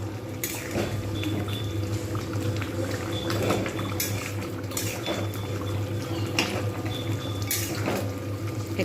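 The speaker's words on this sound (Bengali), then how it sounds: "একটু ফুটবে আর একটু গ্রেভি হবে, শুকনো শুকনো মতো হয়ে যাবে" Coriander chicken curry gravy simmering in a pan, a soft steady bubbling and sputtering with scattered pops and occasional sharper clinks, moderately close and heard alone without voices.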